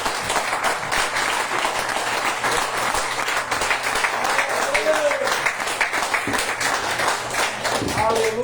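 Congregation applauding during a Brazilian evangelical worship service in a church, a steady wash of clapping with scattered voices and shouts mixed in, sustained and moderately loud throughout.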